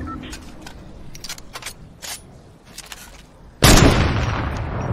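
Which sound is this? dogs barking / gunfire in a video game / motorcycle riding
gunfire in a video game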